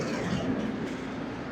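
A New York subway train rumbles along with a steady, dense roar and faint rhythmic clatter, close and continuous over the brief stretch with no voices.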